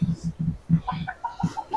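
Chickens at a rural house cluck close by in short, low repeated bursts, then a few higher clucks follow, with no talking.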